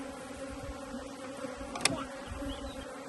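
Dense, steady buzzing of many honeybees at an opened hive during an inspection, a close continuous drone with one brief sharper burst partway through, and no talking.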